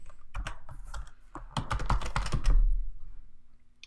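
A file name is typed on a computer keyboard as a fast, dense patter of close key clicks lasting a few seconds, with no speech.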